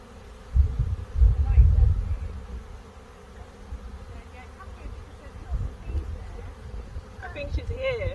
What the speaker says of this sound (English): Yeah, loads of bees.